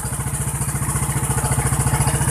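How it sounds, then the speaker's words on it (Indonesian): A Honda Blade Repsol 125 fuel-injected motorcycle engine idles close by after an ignition fault was fixed, a rapid, even putter of regular pulses. "Sekarang motornya sudah bisa hidup"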